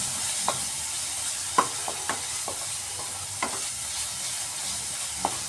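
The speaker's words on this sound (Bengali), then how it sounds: "এটা দিয়ে আমি মশলাটাকে ভালোভাবে কষিয়ে নিচ্ছি" Masala with green chilies and Kashmiri chili powder being sautéed in a pan for a cauliflower, potato and rohu fish dish, with a steady soft sizzle and scattered spoon scrapes and taps while stirring.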